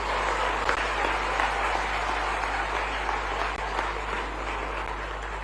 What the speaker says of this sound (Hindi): कृपया ताली बजाकर बच्चों का उत्साहवर्धन करें।